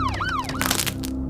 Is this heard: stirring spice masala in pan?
no